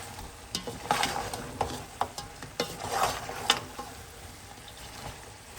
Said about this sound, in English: So what we'll do is we'll just let it continue to cook. We'll give it a stir.